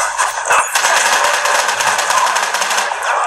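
Rapid, continuous automatic gunfire from the PC game Modern Combat Versus, loud and dense, rattling without pause throughout.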